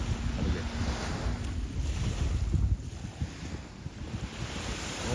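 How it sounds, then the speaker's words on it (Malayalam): A speed boat runs across open water on a windy morning, a continuous low motor drone mixed with wave wash and heavy wind rumble on the microphone, with no talking. "അതുവഴി സ്പീഡ് ബോട്ടൊക്കെ പോകുന്നുണ്ട്,"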